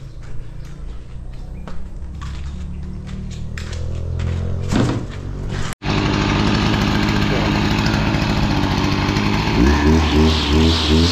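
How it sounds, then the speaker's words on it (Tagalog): A grass cutter engine starts up in an outdoor slab-preparation setting and runs loud and steady, a continuous buzzing drone that holds near the microphone after an earlier stretch of mixed handling noise. "Subukan ko muna ng grass cutter."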